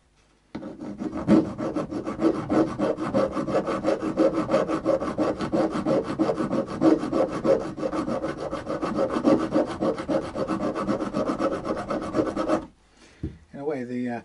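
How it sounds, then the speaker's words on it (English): A sanding disc grinds steadily against a Harley Benton guitar nut, a continuous close rasping scrape lasting about twelve seconds before stopping abruptly, with no talk. "Sanding disc goes zzz"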